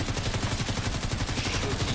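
Dense, sustained automatic gunfire in The Division 2 shooter game, a rapid continuous rattle of shots with no pauses, loud and close throughout.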